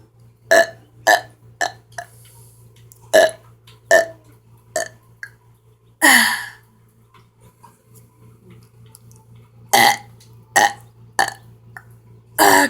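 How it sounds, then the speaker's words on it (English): A string of short, clipped burps comes in quick bursts, roughly a dozen small eructations spaced unevenly with pauses between, close and fairly loud against a faint steady hum, with no talking. "I'm going to see how many small burps I could do."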